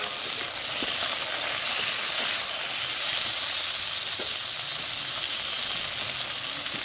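Potatoes and chopped tomatoes frying in a pan, a continuous even hiss of sizzling oil, moderately close and steady throughout, with no voices.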